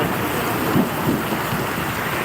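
Heavy rain pours in a loud, even roar during a thunderstorm, with faint low swells and no voices.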